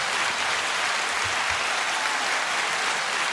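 A live studio audience applauds a guest arriving for an evening talk show, a dense, steady burst of clapping from a large crowd that holds at full strength throughout.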